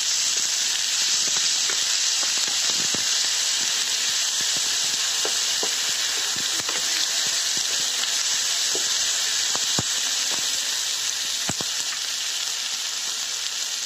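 Ginger garlic paste being stirred into frying egg and cauliflower in a pan, a loud, constant close sizzle and hiss with scattered scraping clicks of the spoon throughout.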